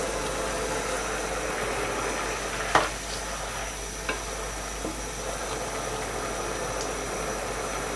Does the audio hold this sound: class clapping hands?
no